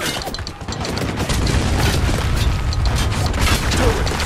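Mortar loading and firing in the shooter Spec Ops: The Line: a dense, loud wash of booming blasts and mechanical clatter that runs continuously and close, with no pause.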